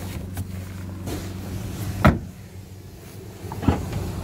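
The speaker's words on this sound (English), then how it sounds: "Windy windows at the back." Rear electric windows of a 2015 Fiat Panda 1.2 8v winding, a low steady motor whine with a couple of sharp clunks as the glass stops, heard close inside the quiet car.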